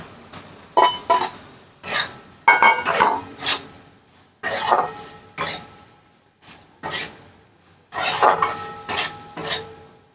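Fried mushrooms for a yogurt mushroom dish being tipped into a pan and stirred, with irregular clattering bursts of a spoon knocking and scraping against the cookware, close by.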